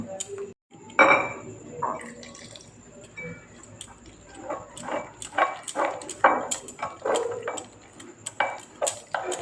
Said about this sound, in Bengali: এবার অল্প অল্প জল দিয়ে বেসনের গোলাটা গুলিয়ে নেব